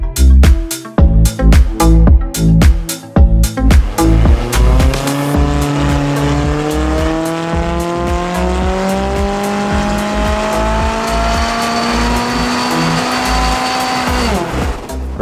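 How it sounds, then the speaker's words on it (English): A stock McLaren 570S sports car on a dyno during a power run: engine blips at first, then revs climb steadily for about ten seconds before cutting off, loud and close, with no talk. "we've done the stock power runs on the 570s now"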